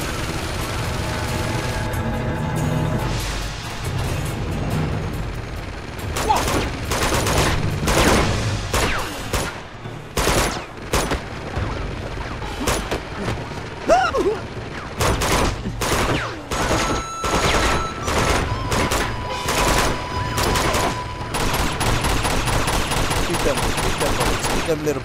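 Gunfire in the Uncharted 2 video game, on the outskirts level: heavy, overlapping bursts of automatic rifle fire with scattered single shots and impacts, loud and dense across the whole stretch, with a player talking over parts of it.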